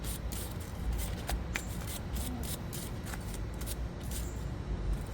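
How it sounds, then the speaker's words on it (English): A metal wire brush scrubbing a brake caliper bracket on a Hyundai or Kia SUV, giving a loud, close, gritty rasping of rapid back-and-forth strokes over a constant hiss. "take our metal brush, just go ahead and clean it off"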